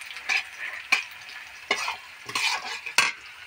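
Onions fry in a pan for an egg and soybean curry while a spoon stirs them in several scraping bursts, close up over a soft continuous sizzle.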